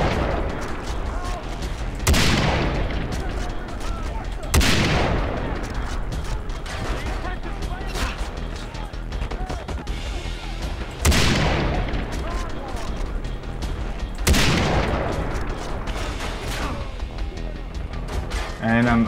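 Four heavy gunshots ring out in Far Cry 3 at spaced intervals, each with a sharp, loud crack and a long decaying echo over a constant game background.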